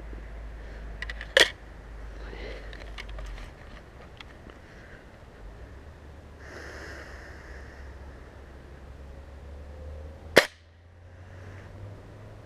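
A .177 air rifle pellet fired into a block of pykrete makes two sharp, loud cracks, one early and one late, with faint outdoor background in between.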